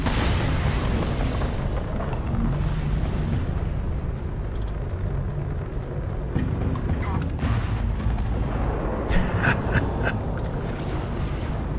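Auto turrets firing in a Starfield space battle, a dense, continuous roar of gunfire and booming blasts that never lets up, with sharper crackling bursts near the end.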